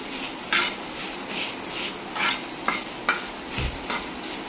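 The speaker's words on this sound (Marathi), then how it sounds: "कांदा पण आपला असा चांगला भाजत आला आहे, चांगला असा भाजून द्यायचा आहे लालसर होतोपर्यंत" Onion roasting in a pan until reddish brown, a soft steady sizzle with a few scrapes and stirring knocks, close and moderately loud, no voices.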